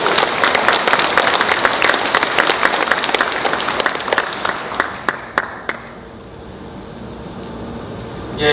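A church congregation claps during a talk by a retired general, loud dense applause with some sharper individual claps that stops abruptly near the end, leaving quiet room tone.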